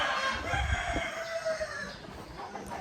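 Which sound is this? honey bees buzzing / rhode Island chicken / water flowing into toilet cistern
rhode Island chicken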